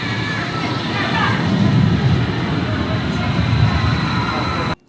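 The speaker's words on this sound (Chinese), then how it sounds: "这个3号线轻轨线已经来了，是一辆绿色的，车头写着伪满皇宫3号线" Green Changchun Line 3 light rail train arriving at an underground-style station, a sustained low rumble and rolling roar with a faint high squeal, loud and fairly close, ending suddenly.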